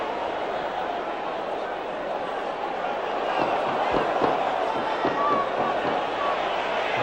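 A 23,000-strong football stadium crowd at a Norwich City versus Manchester United match in 1991 keeps up a steady, distant roar with scattered claps and thumps, with commentary talking over it.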